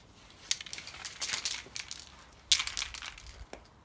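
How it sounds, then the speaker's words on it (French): Sanding a small part by hand before it gets black paint: irregular rasping and scraping strokes come in short bursts, with two sharper scuffs standing out, fairly quiet and close, with no voices. "on va passer un petit coup de ponçage et un petit coup de peinture noire viteuf"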